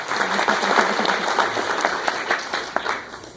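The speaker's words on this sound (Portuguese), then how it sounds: "Pessoal, salve de palmas para o Rafael, me ajudou aí" Audience applause at a tech meetup talk, many hands clapping in a steady, moderately loud wash with a few sharper individual claps standing out over about three seconds.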